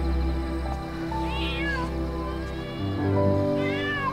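A kitten gives two or three thin, rising meows, close and clear over a steady background music bed.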